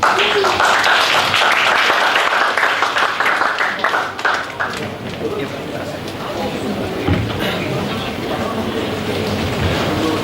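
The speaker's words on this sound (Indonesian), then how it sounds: "sekali lagi berikan tepuk tangan untuk Tuhan Yesus Kristus" Congregation applauding during a church service, dense sustained clapping that fades after a few seconds, with someone speaking over it throughout.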